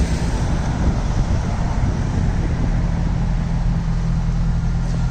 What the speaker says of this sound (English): quite a lot of traffic passing through